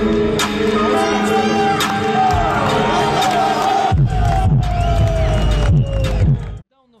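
A large crowd of fans roars and shouts at a fighters' weigh-in, a loud and sustained din that swells partway through, then cuts off abruptly near the end.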